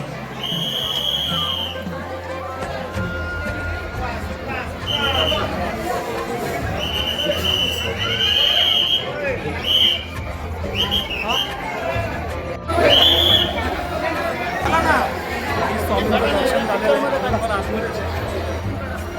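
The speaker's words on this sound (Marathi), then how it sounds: "तुफान गर्दी आहे." Huge crowd of devotees chattering at the Swami Samarth temple in Akkalkot, constant overlapping voices with occasional high whistle-like tones rising above the steady babble.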